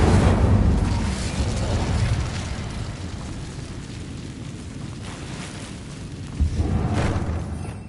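An Incendio fire spell explodes in a Harry Potter video game with a heavy, booming rumble that eases off, then swells again in a second burst near the end. No voices are heard.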